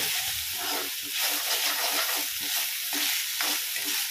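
Carrot and onion fry in a pan as ginger garlic paste is stirred through, giving a steady close sizzle broken by rhythmic scraping strokes of the spoon.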